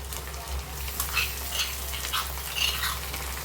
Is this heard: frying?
yes